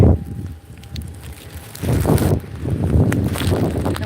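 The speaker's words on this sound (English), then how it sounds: "No wonder it's windy." Wind gusts buffeting the microphone up close at a windmill farm, a steady low roar that swells louder partway through with no talk over it.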